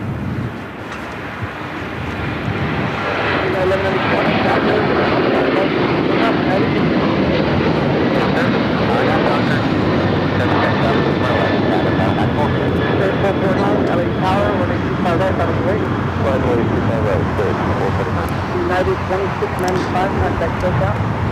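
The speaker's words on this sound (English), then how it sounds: "That was United Airlines heading to Houston, Texas, the 737-900ER" A United Airlines Boeing 737-900ER jet, bound for Houston, takes off at LAX with a loud, broad roar that swells over the first two seconds and then holds steady and close for the rest of the clip.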